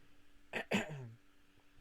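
A single short cough or throat-clearing bursts out close by, followed by quiet.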